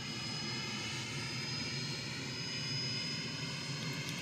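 Steady, loud drone of a McDonnell Douglas MD-88 airliner's jet engines in Flight Simulator X, an unbroken whine and rumble with no pauses.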